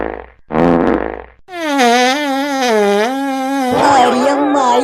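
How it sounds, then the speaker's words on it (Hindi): Loud, buzzy fart noises in a comic rural Hindi sketch: a short blurt followed by a long, wavering, squeaky drawn-out blast that ends in a rougher sputter, close and alone. "पादत पादत हम थक गए"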